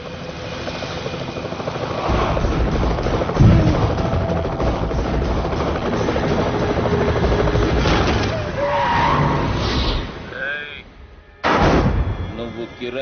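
A helicopter roars in a comedy film scene, its loud, continuous rotor and engine rumble dominating before dropping out briefly near the end and then returning.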